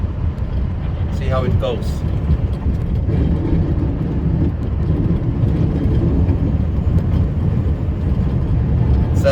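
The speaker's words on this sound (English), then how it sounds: "Really love plowing through soft drifts because you're really doing good things" A vehicle plows through soft snowdrifts on a windy day, with a loud, steady engine rumble and wind roar running through the whole stretch and a brief bit of talk near the start.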